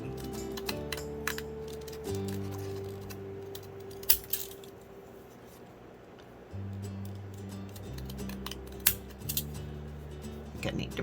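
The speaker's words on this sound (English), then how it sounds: "So I'm gonna use my stamp scissors" Stamp scissors snipping around the edge of a large faux paper stamp, with a few quiet crisp cuts over steady background music.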